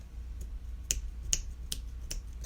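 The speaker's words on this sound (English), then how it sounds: "Can you snap your fingers?" Fingers snapping, about five sharp dry clicks spaced unevenly over a couple of seconds, close and fairly crisp against a quiet low hum.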